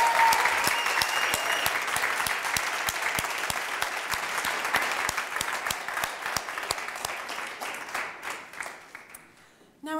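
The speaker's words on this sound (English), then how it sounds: "Let's give them a big round of applause." A big round of applause for graduands at a hospitality school's postgraduate graduation ceremony: dense, steady clapping from a large audience that holds strong for most of the stretch, then thins and fades near the end.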